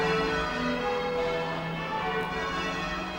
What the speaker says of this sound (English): the ringers there doing very hard work and proclaiming to the local people that it is midday